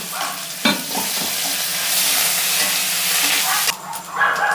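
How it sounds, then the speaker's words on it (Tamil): Sliced onions frying in oil in a pan, giving a steady broadband sizzle with a few clinks and scrapes of stirring, close and alone without talk. "வெங்காயம் பொரிஞ்சு கொண்டு வந்துட்டுது"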